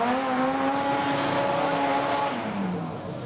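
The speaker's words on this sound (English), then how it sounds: "Not a particularly strong burnout this time for James" A front-wheel-drive drag car does a burnout at a drag strip, a loud sustained engine roar with a rising-then-falling tone and tire noise, close and unbroken, fading slightly at the end.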